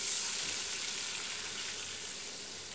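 Garlic stir-frying in hot oil until golden, a steady close broadband sizzle that stays loud and continuous, easing slightly toward the end, with no voices.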